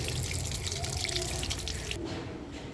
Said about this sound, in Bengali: এই যে ভালো করে ধুয়ে নিয়েছি